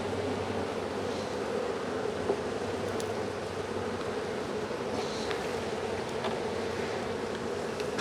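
Honeybees buzz in a dense, steady drone around an opened hive that was recently split, with frames being handled; the hum stays close and continuous throughout with no talking.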